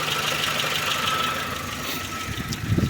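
A warmed-up 1.6 MPI petrol engine in a 2012 Dacia Logan MCV idles with a smooth, even hum at a moderate level, steady throughout with a faint light ticking texture.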